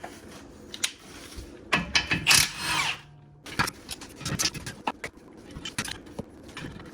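Power tool removing brake caliper bolts on a 2003 Chevy Silverado pickup, several short loud bursts of whirring and rattling amid clanks of metal parts being handled, close by with no talk.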